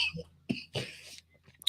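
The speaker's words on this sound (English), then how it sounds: "Made me cough." Two or three short, faint coughs or throat-clearing bursts from one person, close by in a quiet room, separated by brief pauses.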